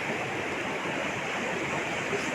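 Strong floodwater in Davao de Oro after a night of nonstop rain, rushing loudly and steadily as a dense, unbroken roar that fills the whole moment without any voices.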